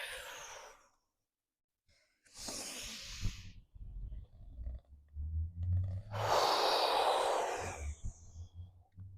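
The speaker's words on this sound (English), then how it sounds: "I want you to force your breath out when you come down." Forceful breaths pushed out during a rolling-down exercise, a few breathy, hissing exhalations in bursts, fairly close, with a gap of near silence and some low thumps of movement between them.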